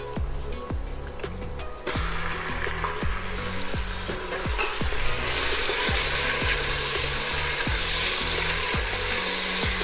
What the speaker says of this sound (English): At this point I'm going to add the lamb.